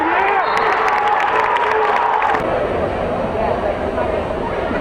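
Spectators at a girls' high school basketball final cheer and shout loudly, a dense roar that stays strong throughout, with a commentator's voice running underneath.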